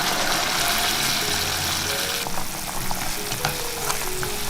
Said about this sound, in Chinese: 加入开水没过五花肉